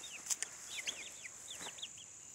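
Chickens make soft, faint clucks and short chirpy calls in quick scattered bursts, distant and quiet over a low hiss.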